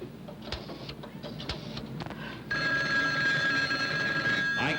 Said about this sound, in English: I'm about to make a phone call.